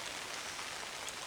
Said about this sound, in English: It's raining right now, so it's just like a light little steady rain.